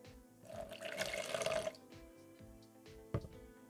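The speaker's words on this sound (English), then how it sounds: "now we're going to add a small amount of water to begin with, just so that we can mix the two together" A small amount of water is poured into a neem oil and soap mix, giving a steady splashing trickle for about a second that then stops, followed by quieter handling clicks and one sharp knock.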